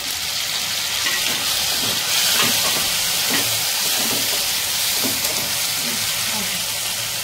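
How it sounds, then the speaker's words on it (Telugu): Onions frying in hot oil give a steady hiss and crackle with soft scattered pops, running unbroken at a moderate, close level. "ఉల్లిపాయ ఇలా వేగే వరకు నూనెలో వేయించుకోవాలి."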